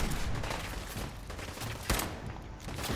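Pistol gunfire in the video game Fallout 4, a rapid string of sharp shots with one louder crack near the end, mixed with dense game noise.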